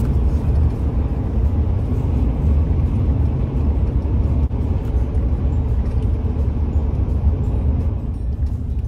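A car driving along a winding road toward Mount Saint Helens, a steady, close, loud in-cabin engine and road rumble with no talk.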